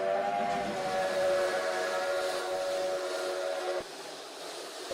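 A loud, sustained video-game steam train whistle with layered harmonic tones blows for several seconds, then cuts off and drops to a softer hiss.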